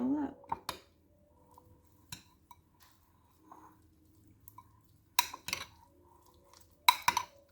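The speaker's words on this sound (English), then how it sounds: "And I'm going to add some more dressing. And I'm going to mix it all up." Potato salad with dressing is stirred in a bowl, utensil clinking and scraping against the dish in scattered soft taps, with a few louder clustered knocks; quiet and close overall.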